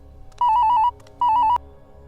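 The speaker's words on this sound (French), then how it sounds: "Le téléphone sonne." A telephone rings in two short electronic trilling bursts separated by a brief pause, loud and close against a quiet room background.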